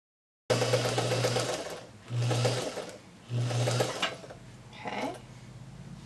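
A sewing machine stitching quarter-inch seams on quilt strips for a twisted log cabin block, three close bursts of rapid mechanical whirring separated by short pauses, then a brief softer rustle.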